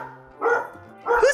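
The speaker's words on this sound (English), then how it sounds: "Whose dog is barking?" Two short bursts of dog barking, fairly close, separated by a brief pause, over a faint low background hum.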